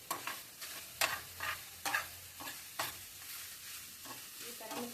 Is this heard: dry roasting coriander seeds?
yes